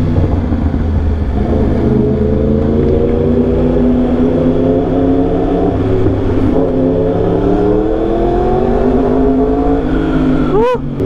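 A 2021 Yamaha R1 sportbike fitted with a very loud aftermarket exhaust, a loud close engine drone rising and falling in pitch through revs, ending in a sharp bark.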